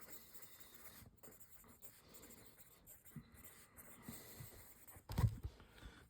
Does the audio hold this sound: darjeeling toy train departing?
no